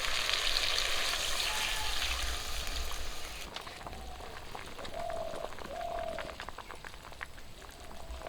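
Water poured into a pan of fried ridge gourd and potatoes, opening with a loud hissing rush that settles into a steady bubbling simmer, close and continuous, with no one talking.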